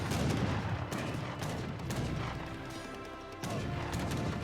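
Rapid bursts of Gatling gun fire from an Age of Empires battle, dense overlapping volleys with crashing impacts, loud and continuous throughout.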